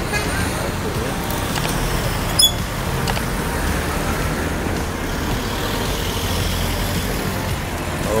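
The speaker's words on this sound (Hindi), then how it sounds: "ट्रैफिक बहुत ज़्यादा है।" Heavy city street traffic in Istanbul near the Pakistan Consulate, with a steady broadband rumble of cars, trucks and buses that stays loud and constant, and one brief sharp transient partway through.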